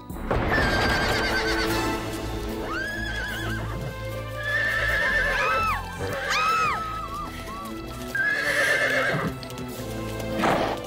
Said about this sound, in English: What is this strange beast? I think it's called a horse.